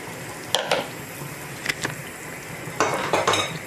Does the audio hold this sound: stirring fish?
yes